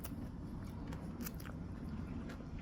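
Someone chews a mouthful of perilla-oil aglio e olio pasta with chili pepper leaves and garlic, with soft close wet bites and squishy chewing over a few seconds, with no talk.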